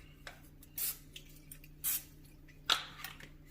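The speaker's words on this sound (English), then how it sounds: "take a little butter spray." Short hissing bursts from an aerosol butter spray can, three longer sprays and a few tiny puffs, close and fairly quiet against a low background hum.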